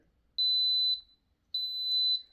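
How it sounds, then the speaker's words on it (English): A kitchen timer goes off as homemade plain Greek yogurt finishes, giving two long, high, steady electronic beeps with a short pause between them, clear against a quiet room. "And the timer is done."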